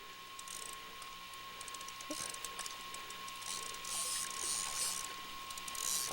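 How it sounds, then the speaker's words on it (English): A fishing reel's drag clicks in a rapid ratcheting patter while a pike pulls line on an Alaskan outing. The clicking is faint and runs continuously over a steady background tone, with no voices. "He's got his drag set low so you can hear it."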